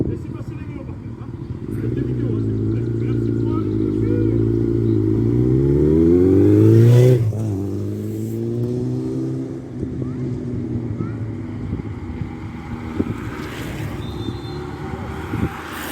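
A car drives past on the road during a cycling race in Fourchambault, its engine rising in pitch as it approaches and then dropping away, with a commentator talking throughout.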